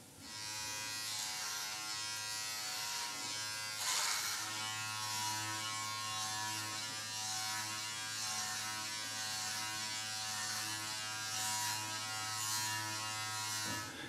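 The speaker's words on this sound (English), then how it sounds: "it's going to be moving the clipper front to back, smooth strokes" A Wahl electric hair clipper buzzes steadily and loudly at close range while cutting hair on top of the head in smooth front-to-back strokes, holding a constant tone with slight shifts in pressure throughout.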